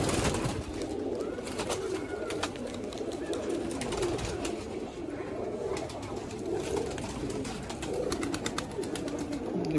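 Racing pigeons coo in repeated low phrases over a busy loft background, steady for about ten seconds with no clear talk on top.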